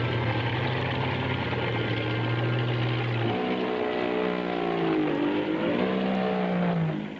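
Diesel earthmoving machines from the 1950s working on highway construction, scooping dirt in huge loads: a loud, continuous engine drone that drops in pitch partway through and then swells and wavers as the machines labor, with no voices.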